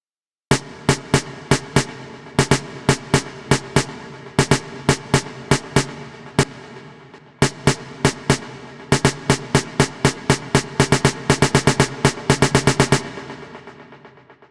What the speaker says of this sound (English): So in the build-up, I have a snare loop,